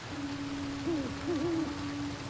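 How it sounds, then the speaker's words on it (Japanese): An owl in the video game Never Alone gives a few soft wavering hoots over a steady low tonal hum and game ambience, with no talking. "このフクロウは何なんだろうっていうコメントいただいたんですけど"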